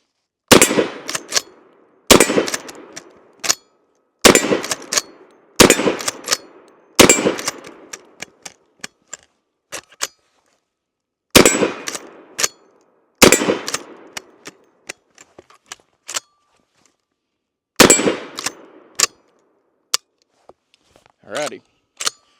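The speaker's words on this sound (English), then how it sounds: "let's go ahead and take our first shots with it" A Smith & Wesson 1854 Stealth Hunter rifle fires eight rounds of .357 Magnum as loud, sharp, separate shots spaced a second or more apart, with metallic action clacks between them.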